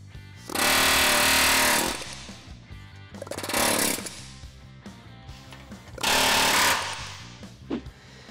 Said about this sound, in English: then we're gonna take our air hammer and hammer it off of there that way.